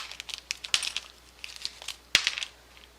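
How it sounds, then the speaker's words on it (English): Plastic packaging holding new RPM hub carriers for a Traxxas Rustler RC truck is cut and torn open, with close crinkling and rustling and two sharper snaps. "I'm going to go ahead and get my 2 new ones from RPM and cut them open."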